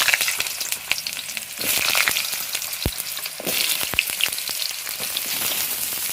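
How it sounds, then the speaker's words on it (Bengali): Pointed gourd pieces frying in hot oil in a wok, a loud, dense sizzle with sharp crackles and pops that swells partway through and carries on steadily, no voices. "পটলের তো তরকারি রান্না করবো, ওই জন্য আগে পটলটা ভাজি।"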